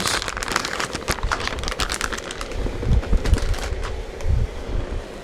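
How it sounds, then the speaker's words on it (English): Crisp crinkling and crackling of a clay package's plastic wrapper being handled up close, in irregular bursts with a few soft thumps. "So we're going to take it out of the package, roll it up"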